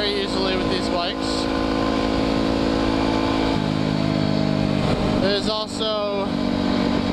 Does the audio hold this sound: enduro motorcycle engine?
yes